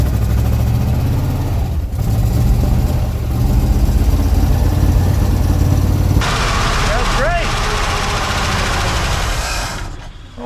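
Engine of a 1966 Chevy panel truck, left sitting about twenty years, running loudly after being fired up, a rough steady rumble close by that cuts back partway through and fades at the end.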